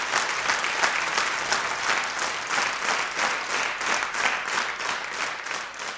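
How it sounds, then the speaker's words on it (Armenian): An audience at a televised Armenian evening honouring poet Silva Kaputikyan applauds steadily, a dense sustained crowd clapping with a rhythmic pulse throughout. "ես խնդրում եմ, որ ծափարենք"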